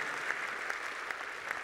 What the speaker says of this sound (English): From the Lord, and you can clap for it.